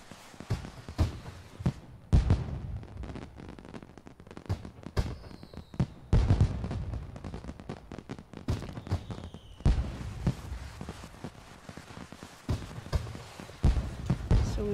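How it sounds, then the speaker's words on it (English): Fireworks going off in The Sims 4 video game: a busy run of crackling pops and sharp bursts, with a few whistling streaks rising over the clatter. The bursts come in uneven clusters across the whole clip. "The fireworks sets off."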